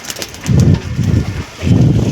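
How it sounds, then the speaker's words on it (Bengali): Domestic tournament flying pigeons coo at dusk, close by, in three low, throaty bursts separated by short pauses. "দাদার পায়রা এখনও উঠছে"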